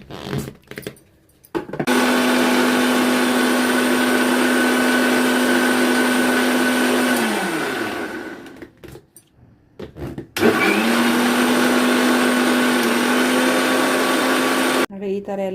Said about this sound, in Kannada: ಇನ್ನು ಮಿಕ್ಸಿ ಮಾಡೋಣ ಈಗ.